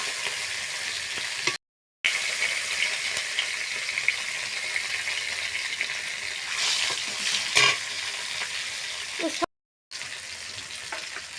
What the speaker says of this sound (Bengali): তেল গরম হয়েছে কাঁচা লঙ্কা দিয়ে দিচ্ছি